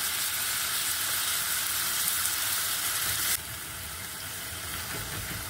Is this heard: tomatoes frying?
yes